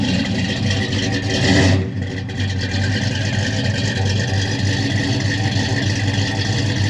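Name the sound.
Big-block 396 V8 engine of a 1967 Chevrolet Chevelle running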